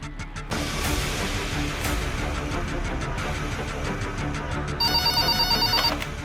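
A telephone bell rings during a call to a city hospital. The ringing comes in steady, repeated pulses near the end, sitting over a dense, busy background bed.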